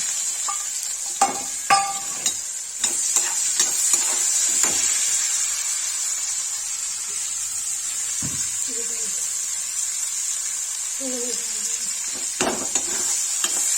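Onions going into reduced oil in a pan for Kashmiri-style rajma, with a steady sizzle throughout, punctuated by utensil knocks and scrapes and some faint voice-like sounds.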